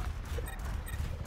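Horse hooves clip-clop in the Overwatch 2 video game, a steady, fairly quiet rhythmic trot under a low rumbling game background, brief and continuous.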